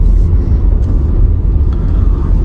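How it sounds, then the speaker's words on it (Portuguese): A steady low rumble of a BYD eT3 electric van driving, with a faint electric motor whine riding over the road noise, continuous and close. "É elétrico, não faz tanto barulho, mas dá para ouvir os seus chiados"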